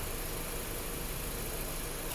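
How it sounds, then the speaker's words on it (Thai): A steady, quiet engine hum with a broad hissing whir, unchanging throughout, from a 2014 Nissan Juke idling with its air conditioning compressor running normally after an air conditioning repair. "คอมแอร์ตัดต่อปกติคอมแอร์ทำงาน ไม่เสียงดัง"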